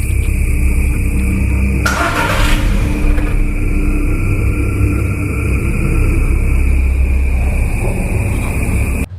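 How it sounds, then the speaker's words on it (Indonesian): A police car in a video game pulls away with a steady engine drone and road noise, a short whooshing rush early on, the sound continuous and fairly loud with no speech. "Di situ si Arif menggunakan mobil polisi untuk meninggalkan tempat ini"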